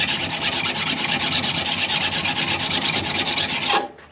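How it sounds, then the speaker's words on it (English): Hand file rasping steadily across a Porsche 912 metal part, flattening it in continuous strokes, close and loud with no talk, stopping abruptly near the end. "as you file away, you're bringing this part down to flat"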